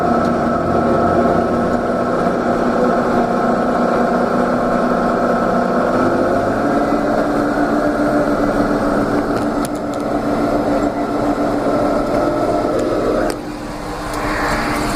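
A TM 1400 tractor with its mower down runs steadily at high speed across a field, a constant loud engine drone with little variation, easing slightly near the end.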